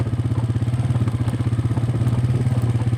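A second-hand motorcycle engine runs close by in a steady idle, its rapid, even chugging pulses and light mechanical clatter continuing without a break.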